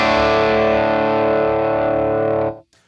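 A Gibson Les Paul electric guitar through a Dr. Z Z-80 amp set at the edge of breakup rings out one loud, slightly gritty chord that sustains for about two and a half seconds before being cut off.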